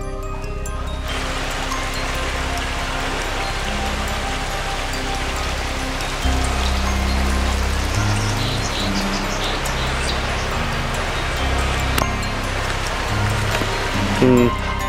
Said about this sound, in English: Gala's once great gushing waterfall has been reduced to a mere trickle.